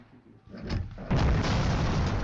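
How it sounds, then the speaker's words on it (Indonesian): A single gunshot in the Henry Stickmin video game lands as a loud boom that swells into a sustained, noisy blast, following a moment of quieter game sound. "Waduh ditembak dong"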